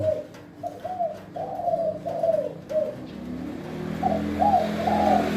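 A spotted dove coos in a repeated series of soft, rolling calls, pauses, then coos a few more times over a low background rumble of traffic.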